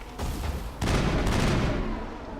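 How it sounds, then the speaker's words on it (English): Video game gunfire in Mass Effect aimed at the player, a dense rattling barrage of shots with booming low rumble, loud and continuous, with no talking. "And we're being shot at again"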